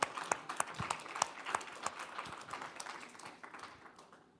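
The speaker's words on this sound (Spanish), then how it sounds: "Un aplauso" A small audience claps for a music producer at a book presentation, with scattered individual claps that are fairly close and fade toward the end.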